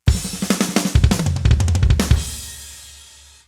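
A fast drum fill rolls across snare, toms and kick in a rapid run of punchy hits, then a final crash rings out and slowly fades.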